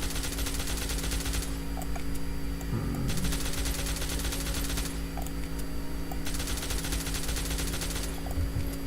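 Sustained full-auto gunfire from a modded rifle in Fallout: New Vegas, dense rapid bursts with brief gaps, loud and close, over a steady background hum.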